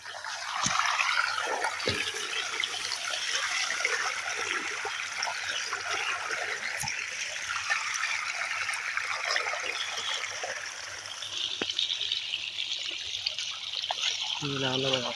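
Irrigation water flowing into a wheat field on a farm, a steady close rush and trickle with a few brief knocks.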